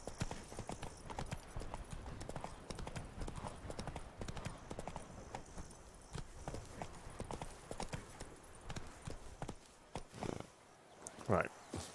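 Roach the horse trotting in The Witcher 3, a steady clip-clop of hooves on ground, moderately close, with someone talking over it and a brief whinny near the end.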